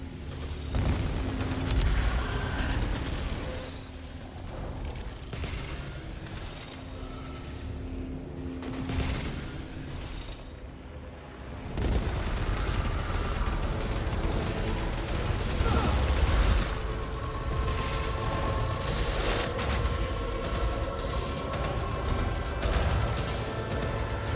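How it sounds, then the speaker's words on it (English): Weapon fire from the thermogenic launcher in the video game Returnal: dense, continuous bursts of booming shots and explosions over busy mechanical game sound, loud throughout with a short lull in the middle. "Thermogenic launcher."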